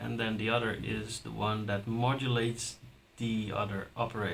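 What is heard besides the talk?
No distinct noise like a dog, phone or traffic.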